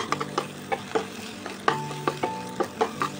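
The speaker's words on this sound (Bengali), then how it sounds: "খুব ভালোভাবে এটাকে কোচাতে হবে যতক্ষণ না এটা ড্রাই হচ্ছে।" Scrambled eggs frying in a pan with rhythmic scraping stir strokes every fraction of a second over a steady close sizzle, with no voices.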